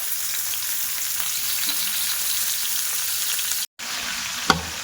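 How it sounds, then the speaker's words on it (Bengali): Steady sizzling of marinated chicken pieces lightly frying in hot oil, with a brief cut to silence and a sharp clink of a utensil near the end. "দিয়ে চিকেনগুলো আমি হালকা ফ্রাই করে নেব"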